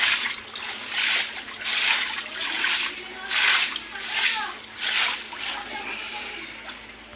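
Water splashes and sloshes in repeated surges, gushing and draining away in rhythmic bursts, with a voice speaking faintly underneath.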